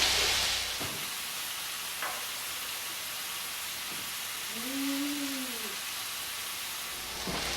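A Mediterranean topping for white fish cooks down in a pan with a steady soft sizzle and faint bubbling, a continuous low hiss with a few light stirring knocks.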